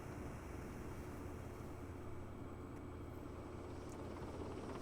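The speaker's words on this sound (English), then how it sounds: "A helicopter, picks it up and drops it." A helicopter flying in wind, a steady faint droning rumble heard from a distance, constant throughout with no voices.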